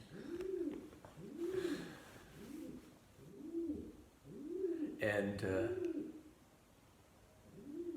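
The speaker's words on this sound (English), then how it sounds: "There's a dove or a pigeon." A dove or pigeon coos outdoors in Budva, Montenegro, in a slow, regular series of soft, rounded calls, with a brief spoken word partway through.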